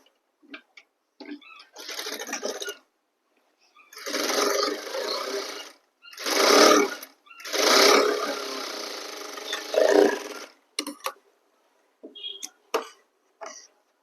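A sewing machine stitches a second seam on a suit, running in several loud bursts of a few seconds each, separated by short pauses and faint handling sounds.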